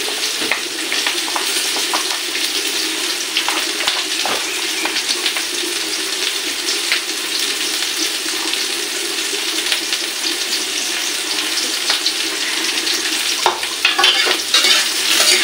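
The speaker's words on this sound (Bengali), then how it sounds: "দেখুন আমি সুন্দর করে ভাজা করে দিচ্ছি।" Soybean chunks coated in egg sizzle and crackle steadily in a hot pan for a long stretch, with occasional stirring scrapes and no talking.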